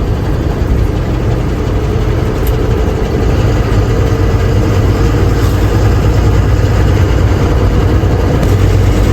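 A truck engine drones steadily at close range, driving along a shaded country road at night; the low, continuous rumble holds even throughout with no speech.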